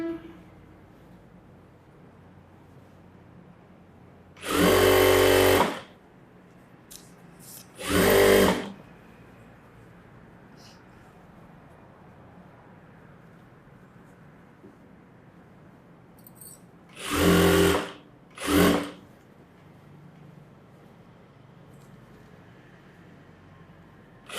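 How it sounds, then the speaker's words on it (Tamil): A sewing machine stitches gathered pant fabric in four short, loud whirring bursts separated by quiet pauses, close by, with faint background noise between runs. "கீழே உள்ள பீஸ் இழுக்காமல் தைக்கணும்"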